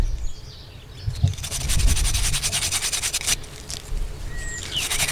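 A dug-up Winchester metal plaque is rubbed clean outdoors, giving close, rhythmic scratchy scrubbing strokes, with faint bird chirps in the background.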